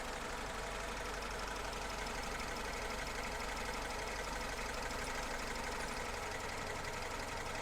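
A 1977 Lada Niva (VAZ 2121) 4x4 engine idles steadily in a shop, a continuous low, even rumble held at a constant level throughout with no voices.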